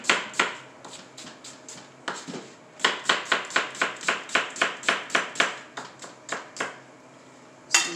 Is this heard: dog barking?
no